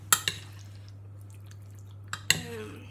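Cauliflower cheese ingredients being mixed in a dish, with a few light clinks of a utensil against the dish over a steady low hum.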